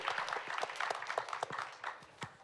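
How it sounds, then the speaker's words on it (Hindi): An audience at a summit claps for Vedanta chairman Anil Agarwal, a brief burst of scattered handclaps that thins out after a couple of seconds. "एक बार जोरदार तालियां हो जाए अनिल जी के लिए।"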